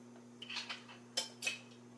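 A cutting board is shifted across a kitchen counter, giving a few soft scrapes and two sharper knocks, quiet over a steady low appliance hum.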